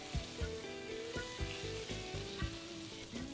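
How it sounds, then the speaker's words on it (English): Diced bacon lardons fry slowly in a pan, rendering their fat, with a steady close crackling sizzle broken by a few soft clinks and stirring knocks. "render that bacon down quite slow and get all of that fat out"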